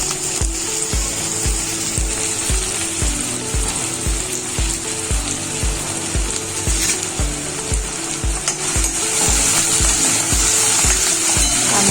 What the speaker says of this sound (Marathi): कांदा थोडा शिजतोय तेलामध्ये